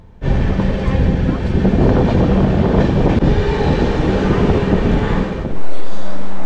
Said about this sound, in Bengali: আমাদের ট্রেন সেদিন প্রায় 2 ঘন্টা 20 মিনিট লেট করে 10:42 অবশেষে ব্রহ্মপুর স্টেশনে ঢুকলো।